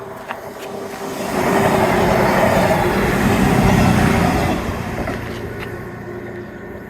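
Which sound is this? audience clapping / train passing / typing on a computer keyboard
train passing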